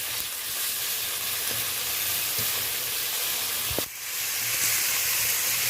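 Onion, tomato and ginger paste frying in a pan gives a steady close sizzle and hiss, with a few faint scraping strokes of a spoon stirring through it and one brief louder clink, no talking.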